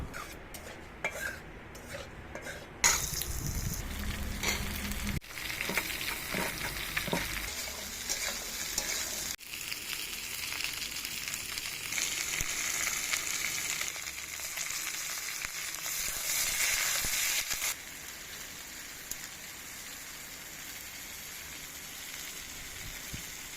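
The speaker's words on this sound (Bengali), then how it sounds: "ফোড়নও দেব পাঁচ ফোড়ন গোটা শুকনো লঙ্কা তেজপাতা" Panch phoron, whole dried chillies and bay leaves hitting hot oil for tempering, a bright sizzle that swells and fades with stirring clatter and utensil scrapes, close and fairly quiet.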